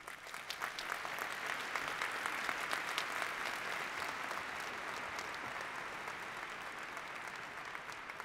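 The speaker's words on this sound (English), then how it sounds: "Can we give another round of applause for Dr. Peter Diamandis, please?" Audience applause following a tech keynote at a conference, a dense, steady wash of clapping from a large crowd that holds strong throughout and fades only slightly toward the end.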